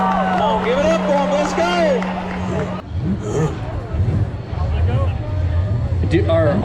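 Crowd cheering and hubbub for a racer at the Freedom 500 race, a mix of babble and shouts with speech over it and a passing engine tone early on.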